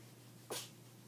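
A single quick, faint sneeze from a person, a short breathy burst against a quiet room hum.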